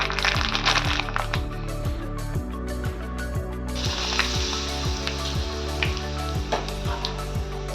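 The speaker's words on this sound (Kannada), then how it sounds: "ಹಪ್ಪಳ ಕಾಯಿಸ್ತೇನೆ" Papad frying in hot oil in a home kitchen: a close, steady crackling sizzle with a bright hiss that swells midway, under a repeating low mechanical pulse.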